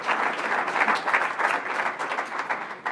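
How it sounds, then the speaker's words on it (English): An audience gives a round of applause at a talk event, a dense, sustained clapping that swells and dips slightly, close and steady from start to finish. "That deserves a round of applause"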